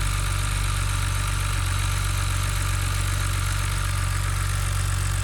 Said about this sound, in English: a ticking noise from the engine